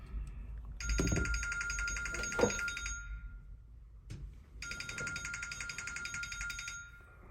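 A telephone rings in two long electronic trilling bursts separated by a short pause, fairly quiet in an indoor room during an iPhone 11 screen repair, with a faint clunk between rings.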